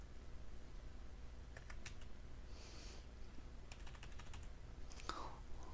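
Quiet typing on a Japanese computer keyboard, including the Caps key, with a few short bursts of key clicks over a steady background hum.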